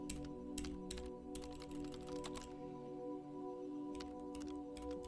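Rapid clusters of computer keyboard keystrokes in irregular bursts with short pauses, close and fairly quiet over a steady low electronic hum.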